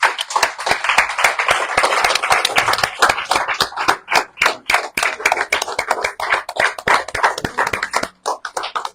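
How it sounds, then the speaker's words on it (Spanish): An audience at a Christian marriage gathering claps for several seconds, a dense run of sharp hand claps that turns more ragged and thins out toward the end, with no voices. "¿Cuántos le pueden dar un fuerte aplauso?"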